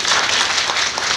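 A church congregation at Nissi Church in Nagpur claps together in a brief, loud, even burst of applause with no talking over it.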